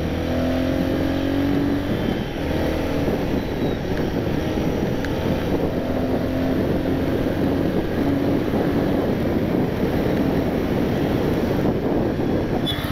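Royal Enfield Guerrilla 450 motorcycle accelerating on the road, a steady engine drone mixed with heavy wind rush across the microphone, loud and continuous throughout with no voices.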